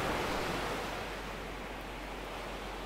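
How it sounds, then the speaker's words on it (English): Steady broadband wash of ocean waves on a shore, a continuous rushing surf that stays even and fairly loud throughout with no distinct breaks or voices. "perhaps the waves on the shore or seabirds"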